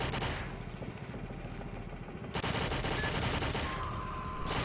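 Rapid video-game gunfire from Foreign Legion: Multi-Massacre, with a dense, continuous clatter of shots that briefly thins and then resumes at full intensity, loud and unbroken throughout.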